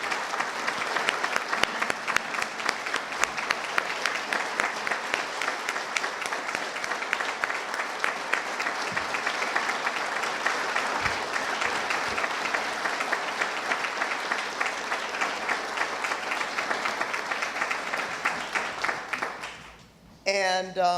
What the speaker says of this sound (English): everybody in this room should applaud all these fine men and women for the work that they do